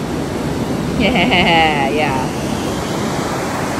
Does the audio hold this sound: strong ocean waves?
yes